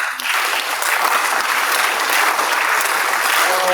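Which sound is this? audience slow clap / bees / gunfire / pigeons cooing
audience slow clap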